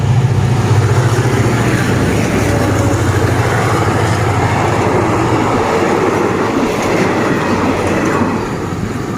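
A diesel train accelerates past a railway crossing at close range, a loud continuous engine roar with clattering wheels that eases slightly near the end.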